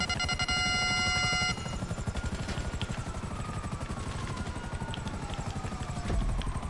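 Helicopter in GTA V Online flying steadily, its rotor chop a dense continuous beat throughout, with a faint background tone and a burst of action noise near the end.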